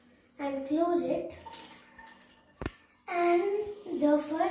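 Hands washed with soap under running water at a tap, a close splashing and rubbing wash heard beneath a voice speaking throughout, with a brief sharp knock midway.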